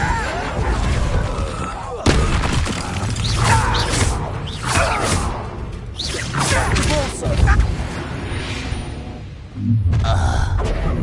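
A Confringo fire-blast spell explodes in a Hogwarts Legacy duel, one of several thuds, whooshes and impact bursts amid combat effects and spoken dialogue.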